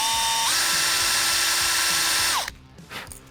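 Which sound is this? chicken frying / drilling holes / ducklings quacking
drilling holes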